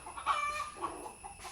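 A rooster calls faintly in the distance, a brief crow-like sound over quiet background noise.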